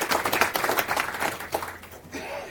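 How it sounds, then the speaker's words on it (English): Clapping from a small audience at a tech talk on code deduplication, a few close, distinct hand claps in an irregular patter that thins out near the end. "so round of applause for Romain."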